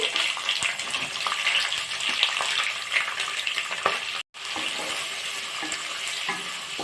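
Onions and green chillies sizzle in hot tempering oil for lemon rice, a steady close frying hiss with stirring scrapes, continuous apart from a brief silent gap.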